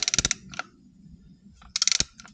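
A ratchet snugs the oil pan bolts on a BMW K1100RS motorcycle, giving two short bursts of rapid, crisp clicking up close, separated by a quieter gap with a single faint click between.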